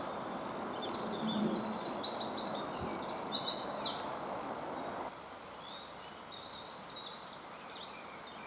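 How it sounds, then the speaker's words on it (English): Wren singing at a pond reserve, rapid high trilling bursts repeated against a steady outdoor background hiss, moderately near. "Wrens can be seen in many areas of the reserve, but you may well hear them first."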